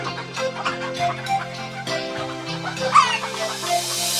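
A cartoon hen clucks in short repeated bursts over a bright sung nursery-rhyme melody with steady backing music.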